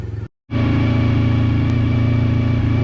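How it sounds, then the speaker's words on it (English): A 1990 Honda VFR400R NC30 motorcycle idles while warming up, a loud, close, steady engine drone with an even pulsing beat that cuts out briefly and then resumes. "I'm gonna let this bike warm up and we will go right into the riding."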